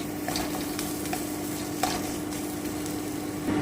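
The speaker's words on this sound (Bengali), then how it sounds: "এই যে আমি ধনে পাতাটা দিয়ে দিচ্ছি খুব ভালো করে নেড়ে নেব দু থেকে তিন মিনিট" Bottle gourd peel paste with coriander leaves is stirred in a hot pan, a steady low sizzle under soft, rhythmic scrapes of a spoon, close and even throughout without voices.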